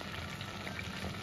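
Battered pork pieces deep-frying in hot oil give a steady, dense crackling sizzle that runs evenly from start to finish, close and moderately loud, with no voices.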